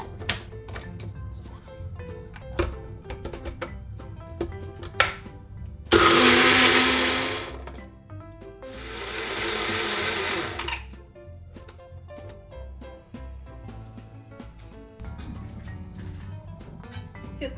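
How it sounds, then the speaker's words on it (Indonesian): A kitchen blender whirs through spices with a little water for Indonesian chicken noodles, in two loud bursts of a couple of seconds each over quiet background music. "Ini kasih air sedikit ya supaya jalan blendernya"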